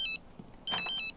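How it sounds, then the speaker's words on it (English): A phone in a life-simulation game rings in two bright electronic chirping bursts separated by a short pause, clear and close with no speech. "My phone is ringing."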